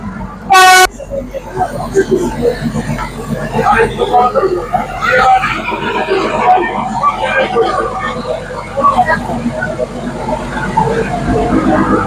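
The Ooty toy train sounds a short, sharp horn toot near the start, then its running rumble continues while people talk loudly nearby for the rest of the stretch.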